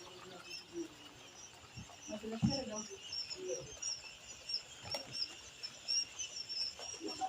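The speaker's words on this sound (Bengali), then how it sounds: "সুস্থ সবল বাচ্চা, জাপানি কোয়েল পাখির বাচ্চা" Day-old Japanese quail chicks chirp in thin, high, overlapping peeps that run continuously at a faint level, with soft background voices and handling noise.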